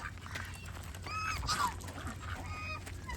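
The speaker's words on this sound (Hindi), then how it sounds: "मारे डक्स" Several barnyard ducks or geese call on a farm, a few honking cries rising and falling over steady background noise, moderately near and without speech.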